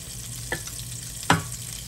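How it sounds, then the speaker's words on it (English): Soft sizzling of buttermilk-battered shrimp frying in shallow oil, close by, with two brief louder crackles breaking through the steady hiss. "I'm frying them in shallow oil, not a big old deep fried oil."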